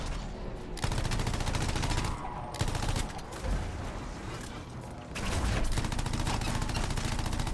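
Dense gunfire in the video game Anthem, with rapid automatic bursts that come in loud waves and drop off briefly between them, while mechanical clatter mixes in.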